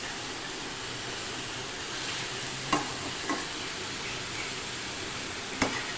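Vegetables mixed with flour (maida) are stirred in a pan over a low flame for a chicken sandwich filling, giving a steady soft scraping hiss with a few sharp utensil taps against the pan.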